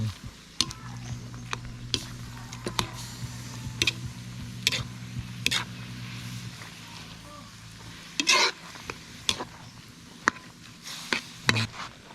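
Ginataan, a dish cooked in coconut milk, is stirred in a pan, giving scattered clicking utensil scrapes over a soft simmering sizzle and low background hum.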